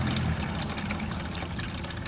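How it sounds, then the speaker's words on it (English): Water poured steadily into a drain pan to trip a float switch, a continuous close rushing pour with no pause, loud and alone. "Just going to pour water into the pan to see how much water we can run through it until it trips."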